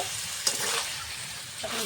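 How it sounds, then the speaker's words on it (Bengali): Chicken and potato frying in a cooked-down spice paste with oil give a close, steady sizzle, broken by a sharp stirring clink and scrape near the middle. "মশলার সঙ্গে চিকেনটা নেড়ে চেড়ে আলুটাও দিয়ে দেবো।"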